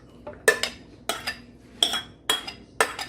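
A spoon stirs potato salad in a big red mixing bowl, giving five clear scraping clinks in an uneven rhythm, close and fairly distinct with no speech.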